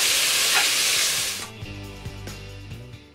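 Diced tomato sizzles loudly in a hot pan for stir-fried cabbage while being stirred, a dense hiss that fades after a moment as background music takes over.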